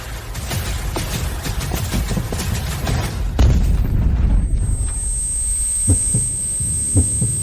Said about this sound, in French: Faites exploser la voiture.